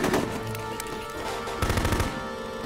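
Gunfire in the tactical combat video game Full Spectrum Warrior, a steady run of sharp rifle bursts and machine-gun rattle with a dense volley near the end, loud and close amid battle noise.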